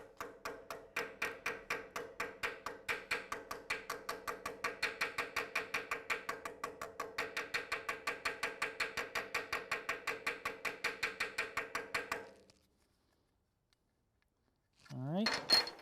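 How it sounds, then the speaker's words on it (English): Thin stainless steel car trim takes a long run of light, quick hammer taps in a steady metallic rhythm, close and clear, then stops; a brief voice follows after a pause. "what we're going to do is try and just hammer a little more."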